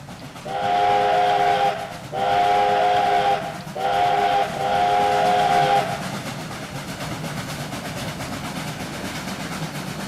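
A steam locomotive whistle in the Trainz simulator game, a G5 4-6-2 locomotive, sounds in three long blasts separated by short gaps, loud and tonal, then fades into a steady rumble of rolling train noise.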